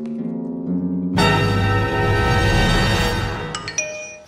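A short cartoon SMS text-message notification tone: a few bright, high chiming beeps ring out near the end, right after a loud, dense burst of music and noise.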